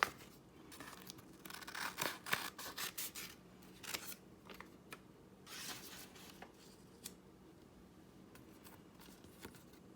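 Scissors snip through paper while a portrait is cut up, with a busy run of crisp cuts and rustling in the first few seconds that thins to sparse, quieter snips and handling noise toward the end. Close and fairly soft, with no talking.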